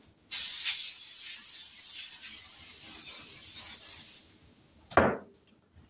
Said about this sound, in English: Now we're going to spray this.